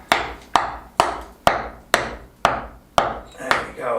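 A hammer taps window fittings into the stone wall of an old Spanish farmhouse under renovation, eight sharp, evenly spaced knocks about half a second apart, each ringing briefly before fading.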